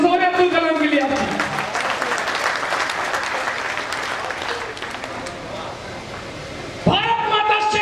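A crowd at a poetry recital in tribute to Atal ji breaks into loud, sustained applause that gradually softens, with someone speaking at the start and again as it fades.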